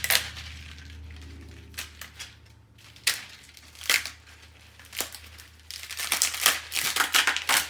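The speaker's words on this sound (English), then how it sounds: "And then you're just going to peel back this outer layer." Dry, papery crackling and crunching as brittle luffa gourd skin is peeled away in irregular bursts, close up, growing busier toward the end with no talking.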